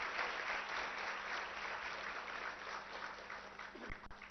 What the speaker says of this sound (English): she deserves a big round of applause from all of you